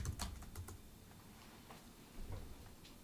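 Computer keyboard typed on during live C++ coding, with faint, sparse key clicks in short bursts, quiet and close in an otherwise hushed room.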